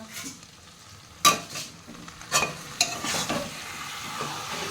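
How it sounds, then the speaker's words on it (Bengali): Mutton pieces are sautéed in a little oil in a pan, a soft continuous sizzle broken by a few sharp spoon scrapes and clinks against the metal as the meat is turned. "তেল দিয়ে দিলাম আলু ভাজাটা হয়ে গেছে মাংসটা কষাচ্ছি"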